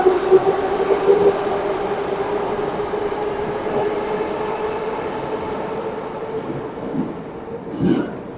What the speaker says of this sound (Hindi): ये पुष्किंस्काया मेट्रो स्टेशन है